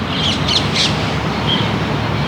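Several quick high bird calls sound in a cluster, then one more after a pause, outdoors in Honolulu, Hawaii, set against constant loud ambient noise and moderately distant.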